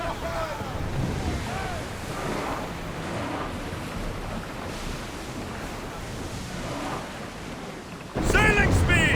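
Ocean waves and wind rush steadily around a sailing ship at sea in Assassin's Creed Odyssey, a continuous surf wash with voices calling out over it and a louder burst of sound near the end.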